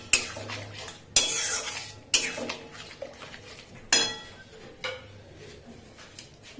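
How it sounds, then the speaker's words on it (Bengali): A spoon stirs food in a pot while cooking, with several sharp scraping clinks against the metal spaced a second or so apart, close and moderately loud, no talking. "নাড়াবো"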